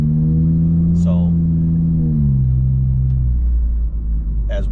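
A VW Golf with a 2.5 engine lugging at low RPM while driving through town, a deep, rough rumble that drops in pitch partway through as it shifts, steady and close throughout with brief faint sounds above it.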